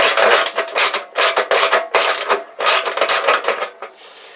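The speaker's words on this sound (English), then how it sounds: "there's something rattling inside it. Sounds like grit or sand or something" Gritty rattling from loose grit or sand shaken inside the fuel sender of a Zontes Tiger 125 motorcycle, in close, loud bursts of scraping clatter repeated about every half second, with no talk.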